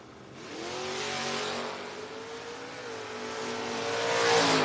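Two drag cars, a Cutlass and a Fox Body Mustang, launching at a drag strip, engines revving hard and rising in pitch as they pull away, loud and steady with a roar that swells again at the end.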